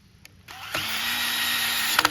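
A power drill drives a screw into a log while an Alaskan mill is being set up, starting with a couple of clicks and then a sudden whining burst lasting just over a second, close and fairly loud.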